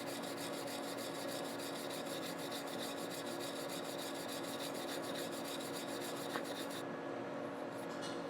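Aluminum is scuffed clean ahead of TIG welding, a continuous close rasping rub that holds steady throughout with no talk.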